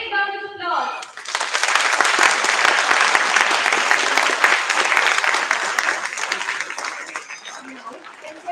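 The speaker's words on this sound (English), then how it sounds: "Both the teams have given their best performance and they deserve a big round of applause" Audience applause in a school hall at an ethics bowl competition, rising sharply after a brief voice and holding as steady, close clapping before tapering off near the end.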